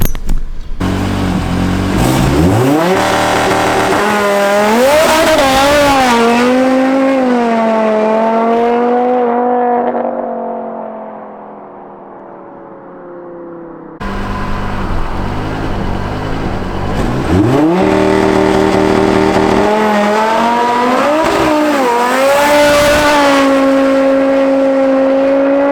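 A big-turbo Audi RS3 launches hard and accelerates, its engine note climbing through gears with sharp shifts, easing off, then launching and pulling again, loud and close with no talking.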